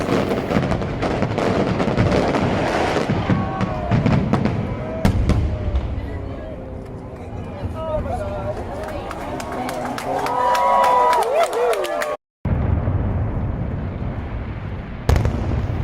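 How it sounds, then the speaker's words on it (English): Fireworks bursting over the harbour in Malta on the final night, heard as a dense string of popping and crackling bangs with a crowd murmuring nearby and voices over the top. "As you can see, fireworks still going."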